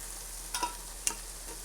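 Garlic and spices such as cumin toast in a frying pan with a low, steady sizzle, broken by two brief stirring scrapes up close.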